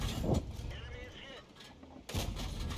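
Tank cannon shots in a tank video game, featuring an E25 tank destroyer: two sharp booming blasts about two seconds apart, each with a short rumbling tail, separated by quieter engine hum.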